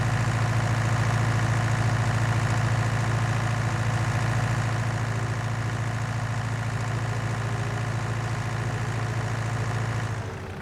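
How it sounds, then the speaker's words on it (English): A roughly 100 horsepower tractor engine in Farming Simulator 19 runs steadily, a loud, even low drone with a constant hum that eases slightly and fades at the very end. "I think this is only like a 100 horsepower tractor."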